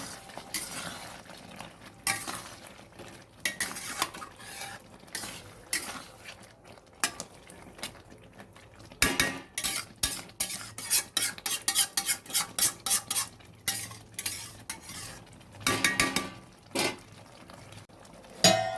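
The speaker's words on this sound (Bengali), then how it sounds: "গ্যাসটা কমিয়ে ভালো করে কষবো বন্ধুরা" Prawns for chingri malaikari get stirred and sautéed in a pan over a lowered flame, with a spoon scraping and clinking against the metal in irregular bursts of clatter and a faint sizzle underneath, close and fairly busy.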